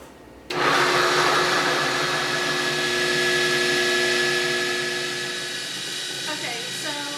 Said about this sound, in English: I'm going to start to blitz this up.